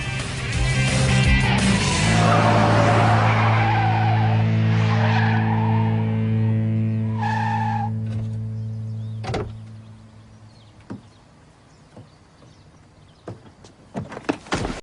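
A movie car scene with a long, loud, sustained tire squeal and engine roar as the vehicle skids, fading into quieter scattered clunks and knocks, with music under it.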